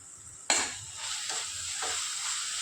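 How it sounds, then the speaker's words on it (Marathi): Spice masala, including a spoonful of mutton masala, stirred as it fries in a pan for crab masala; a sudden sizzle at the start settles into steady frying hiss with soft, periodic stirring scrapes, close and alone. "मसाले परतेपर्यंत 2 मिनिटं व्यवस्थित हलवत राहू"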